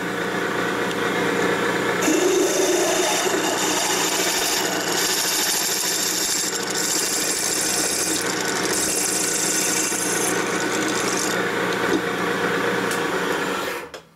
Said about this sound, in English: Okay, now we're drilling.